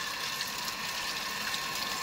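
Water driven by an electric motor fitted to a hand pump, a continuous, even rushing hiss with a steady mechanical hum underneath and no voices.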